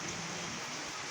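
Steady rain falling as a dense, even hiss of drops, soft and continuous with no distinct individual impacts or voices.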